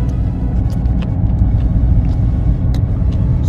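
Car on the road with a learner driver at the wheel, a steady low engine and road rumble filling the cabin, with a few faint clicks and taps over the drone and no talking.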